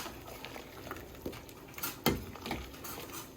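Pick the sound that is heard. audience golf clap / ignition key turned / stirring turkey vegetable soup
stirring turkey vegetable soup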